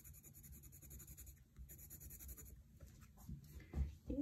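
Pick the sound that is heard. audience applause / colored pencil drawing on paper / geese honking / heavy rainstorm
colored pencil drawing on paper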